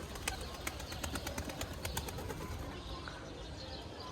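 Pet pigeons in a loft flutter their wings in bursts of sharp flapping, with faint soft cooing underneath, in cold weather, quiet and somewhat distant.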